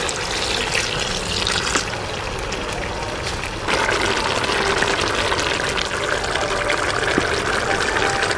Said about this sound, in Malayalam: നമുക്കിതിലേക്ക് ഒരു 200 മില്ലി വിനാഗിരി ചേർത്ത് കൊടുക്കാം.